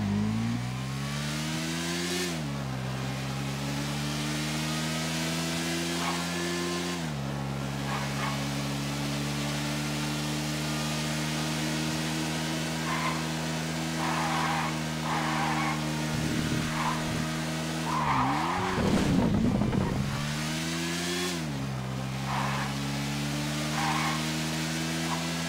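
A Litoro car in a video game is test driven. Its engine drones steadily and climbs through several gear shifts, each pitch rising and then dropping, with brief tire-skid squeals near the end.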